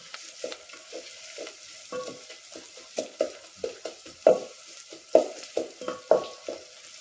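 Onion frying and being stirred for a village-style chicken curry over a wood-fired stove, a rhythmic series of about fifteen scraping stir strokes over a soft background sizzle, close and fairly loud, no talk.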